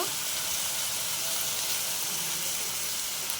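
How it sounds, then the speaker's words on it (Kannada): Food frying in a pan during home cooking, a steady broadband sizzle and hiss that runs unbroken and fairly close throughout, with no talk over it. "ಇದನ್ನು ಸಹ ಚೆನ್ನಾಗಿ ಫ್ರೈ ಮಾಡ್ಕೊಳ್ತಾ ಇದ್ದೀನಿ. ಇದು ಚೆನ್ನಾಗಿ ಫ್ರೈ ಆಗಬೇಕು."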